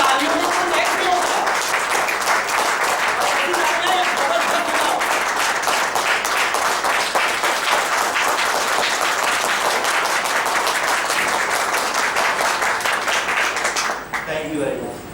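A seminar audience bursts into sustained applause, dense steady clapping filling the room for about fourteen seconds before it abruptly stops.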